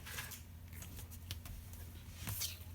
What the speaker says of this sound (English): So you can snip it off here, and you can snip it off here.